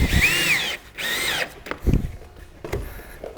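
A power drill drives screws into metal drip edge in two loud, close whirring bursts, followed by a few clanks and knocks of the metal.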